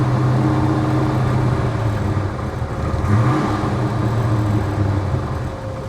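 A 1957 Chevy restomod's engine idles steadily at close range, a continuous low mechanical rumble with a slight swell midway and no voices.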